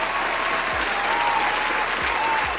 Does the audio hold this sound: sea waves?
no